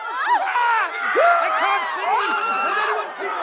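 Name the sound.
panicked crowd sound design in The Wheel of Time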